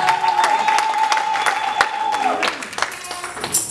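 A church congregation claps for Pastor Sammy: moderate, uneven applause with distinct sharp claps, mixed with sustained musical tones and some crowd noise that gradually thins toward the end.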